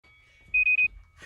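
An interval timer for a bodyweight circuit workout sounds three short, even electronic beeps in quick succession, clear and close over near silence.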